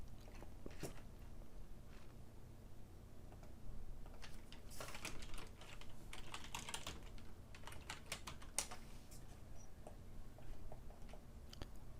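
Steady computer keyboard typing, rapid irregular key clicks close up with a few louder bursts, no voices.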